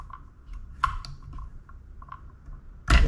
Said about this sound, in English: I'm going to come through with my wire scissors.